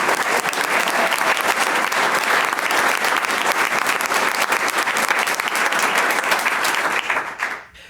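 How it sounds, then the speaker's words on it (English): An audience at a school board meeting applauds steadily and loudly for several seconds, the clapping dense and even before fading out at the end. "yes, let's applaud that"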